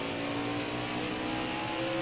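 NASCAR stock car engine in NASCAR Heat 4 at Watkins Glen, a loud, sustained droning roar with a steady pitch, heard close and continuous through the brief moment.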